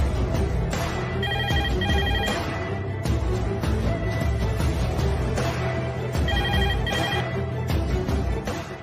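A telephone ringtone rings out loudly on an outgoing call, its tone repeating in two distinct bursts over a busy musical background with no talking.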